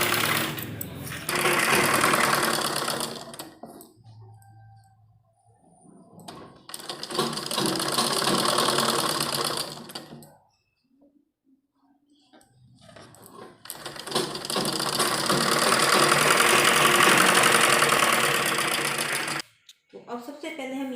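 A sewing machine runs in three long stitching bursts along the folded hem of a child's net frock, a rapid mechanical whirr with quiet pauses between runs and brief handling sounds.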